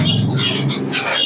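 Pigeons chirp and call in short bursts inside a pigeon shop in Santipur, close by and fairly loud, over a low background rumble.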